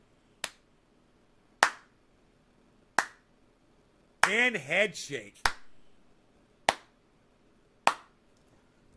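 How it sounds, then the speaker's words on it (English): Slow, evenly spaced single claps ring out one at a time with long pauses between, broken midway by a brief burst of voice and sound effects before the steady clapping resumes. "Slow motion end of movie clap, bro."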